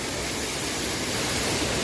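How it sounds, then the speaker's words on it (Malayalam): A Kerala waterfall with reduced flow after the monsoon gives a steady, dense rushing roar. It holds at an even level throughout, with no voices. "വെള്ളച്ചാട്ടത്തിൻ്റെ താഴവശം നമുക്ക് ആദ്യം ഒന്ന് നോക്കാം"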